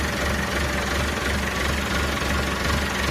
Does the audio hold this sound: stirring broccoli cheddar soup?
no